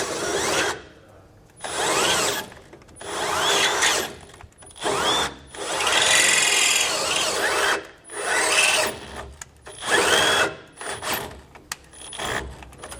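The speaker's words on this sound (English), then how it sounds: "I happen to have a little grinder, and I'm just going to run that through, clean it up" Small grinder enlarging a hole for sway bar end link hardware on a 2016 Ford E-Series, close and loud, running in about half a dozen rasping, whining bursts of uneven length with brief pauses between them.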